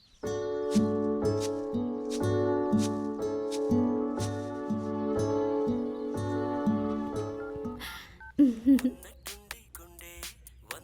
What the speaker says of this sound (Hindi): सुलक्षणा फोन कर रही है, मैं जरा बात कर लेता हूँ